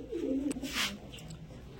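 Soft pigeon coos, a low warbling call repeated a couple of times close by, with faint rustling in the background.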